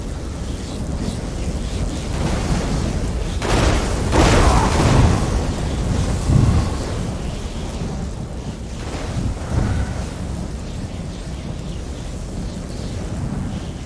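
Thunder from a lightning spell cast in Elder Scrolls Online, heard as a continuous rumbling roar with several heavier booming surges, loud and sustained throughout.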